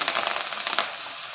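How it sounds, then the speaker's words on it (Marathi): Chopped taro leaves sizzle and crackle in hot oil with two chillies, a dense, steady frying hiss with no voices. "त्याला दोन मिरच्या घातल्या आणि त्याच्यावरती मी या चिरलेला अळू घालते"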